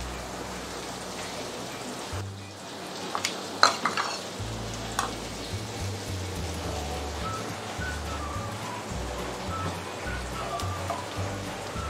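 Whole black peppercorns and a piece of black cardamom crackle and sizzle in hot ghee, a steady close frying hiss with a few sharp pops and stirring sounds, no voices.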